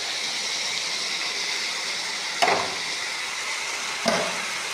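Chopped tomatoes go into a pan of frying egg curry masala with green chillies, giving a steady loud sizzle and hiss throughout, with two brief sharper clatters partway through.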